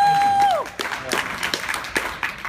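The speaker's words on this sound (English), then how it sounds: "I wasn't expecting any applause." Scattered audience clapping at a stand-up comedy show, starting after a sustained tone and continuing as a thin, uneven patter of claps with some voices mixed in.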